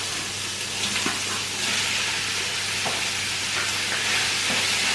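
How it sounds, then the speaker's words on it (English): Lamb mince fries in very hot coconut oil in a pan, giving a steady, loud sizzle and crackle throughout with occasional scraping stirs. "I put some coconut oil into the pan and I'm going to start frying my lamb."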